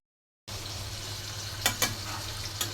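Bhagna fish frying in a home kitchen pan gives a steady, close sizzle throughout, broken by a few short, sharp spatters or stirring clinks partway through.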